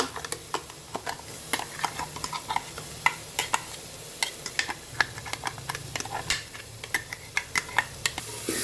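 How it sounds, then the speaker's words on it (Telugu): Masala frying in oil in a pan for Andhra-style egg curry, with a spoon repeatedly scraping and stirring in sharp irregular clicks over a soft, steady sizzle, close up and without talking. "ఇప్పుడు బాగా ఫ్రై చేయాలండి. ఫ్లేమ్ లో చేసుకోండి ఇప్పుడు, ఎందుకంటే మసాలా ఫ్రై కావాలి కదా, బాగా ఫ్రై అవ్వాలి."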